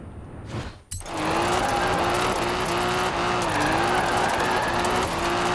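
A Triumph TR7 in Forza Horizon 4 starts with a sudden burst and then holds a loud, steady engine drone whose pitch shifts slightly as it drives, with light game sounds around it.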